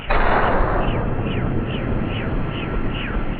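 A burst of rocket fire in GTA, aimed at a helicopter, with a loud whooshing blast followed by a rapid series of repeated launches in steady rhythm.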